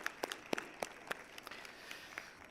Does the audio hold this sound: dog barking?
no